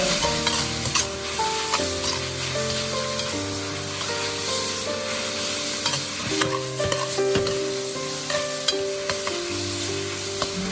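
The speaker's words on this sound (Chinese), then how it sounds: "将肉丝划至变色之后，再下入胡萝卜丝、木耳丝，再快速的翻炒均匀" Shredded pork being stir-fried in a wok with shredded carrot and wood ear mushroom, a loud close sizzle with rhythmic scraping and tossing of the spatula, no voices.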